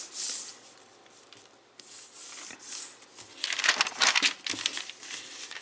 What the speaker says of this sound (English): fold this corner to the halfway mark right there